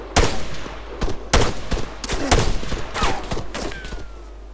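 Sharp rifle and machine-gun shots crack repeatedly in an ArmA 3 firefight, several loud close reports in irregular bursts with ringing echoes between them.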